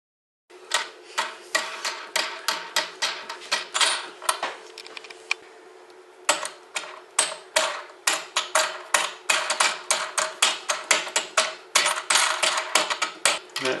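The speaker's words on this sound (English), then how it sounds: "it's simply a question of tightening the wing nut all the way up to the top" A metal wing nut being turned by hand onto a toilet seat fixing bolt over rubber and metal washers, giving a long run of quick, close, fairly loud ratcheting clicks with one brief pause partway through.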